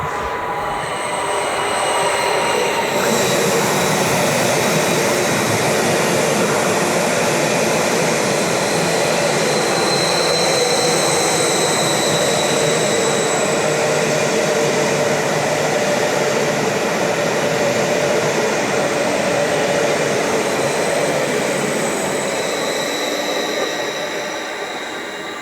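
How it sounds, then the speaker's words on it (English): Two Class 66 locomotives hauling a GBRF charity rail tour roar through Broxbourne station on the New River Line, a loud continuous rumble and rail roar that holds steady for over twenty seconds before easing at the end. "Nice to see a pair of Class 66s there, including the GBRF Charity Rail Tour."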